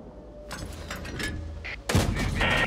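Tank cannon fire in World of Tanks: a sudden heavy blast near the end cuts through quieter engine and battle rumble, a single sharp loud shot followed by ringing debris noise.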